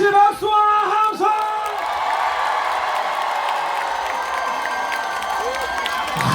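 A large outdoor festival crowd at a concert bursts into cheering, whoops and applause, loud and sustained, with a voice over a microphone at the very start before the roar settles into a steady wash of clapping and shouting.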